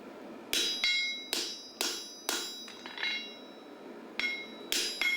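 Hand-forged driving shoe for a heavy Clydesdale horse being nailed on, sharp metallic hammer blows in uneven clusters of two and three, close and ringing, with no talk.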